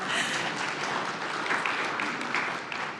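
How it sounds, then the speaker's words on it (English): An audience at a groundwater management presentation gives steady, dense applause for a group, a continuous wash of many hands clapping that holds at the same level for about three seconds. "If you give our group a round of applause."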